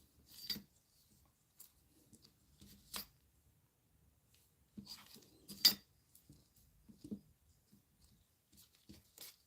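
A blade slicing through a polymer clay cane, a few quiet, sparse clicks and taps against a hard surface separated by near silence, close and soft.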